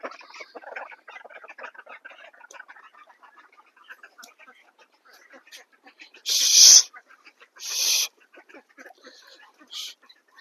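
Ducklings and chickens calling while waiting to be fed, a busy chatter of faint peeps and clucks with two loud, sharp squawks standing out near the middle.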